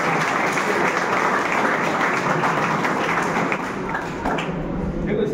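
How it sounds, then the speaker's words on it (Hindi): Audience at a live show in Baramati applauding a performer's personal magic act, a dense, steady wash of many hands clapping that runs throughout with some voices mixed in. "अरे वाह, तालियां होनी चाहिए इनके लिए।"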